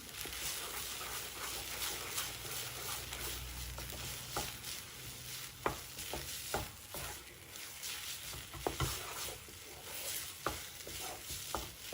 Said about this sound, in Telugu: ఇప్పుడు మొత్తం కూడా కలుపుకుని